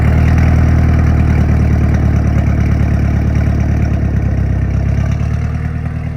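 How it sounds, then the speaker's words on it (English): A 2003 Honda S2000 with a titanium exhaust idles close by from the rear, a steady, loud, deep burble with a fine regular pulsing that holds throughout, unaccompanied. "I want you to hear that titanium exhaust and the symphony of sound it plays."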